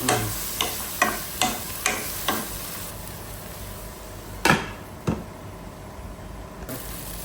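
Onions and tomatoes sizzle softly in a pan with a steady frying hiss, punctuated by a series of sharp clicks and taps from stirring, no voices.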